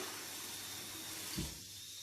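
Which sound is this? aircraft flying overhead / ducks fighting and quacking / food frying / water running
water running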